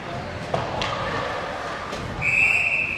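A referee's whistle blows at a high school ice hockey game between Woodbury and Lakeville South. It is one sharp, sustained shrill blast near the end, over arena noise and a commentator's talk.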